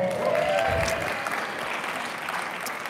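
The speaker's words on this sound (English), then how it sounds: "Can y'all clap for that?" Audience at a city arts month press conference applauds, a steady, moderately loud spread of clapping that fades gradually toward the end, with a brief tonal whistle early on.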